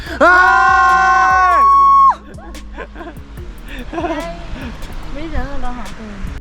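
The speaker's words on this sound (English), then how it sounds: "then we all started screaming" A group of people scream together loudly and at close range for about two seconds on a bridge on Jeju Island, then drop into chatter, laughter and whoops.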